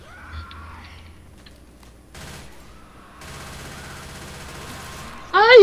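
Gunfire rattles in the zombie shooter Left 4 Dead 2, starting as scattered faint shots and building into a sustained burst of rapid automatic fire, capped by a sudden loud, harsh blast near the end.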